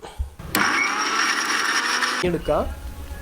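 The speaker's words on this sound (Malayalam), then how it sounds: "അരച്ചെടുക്കാം" A kitchen blender grinds chopped mint leaves in one loud, steady whirring burst lasting almost two seconds. It then cuts off and a short voice follows.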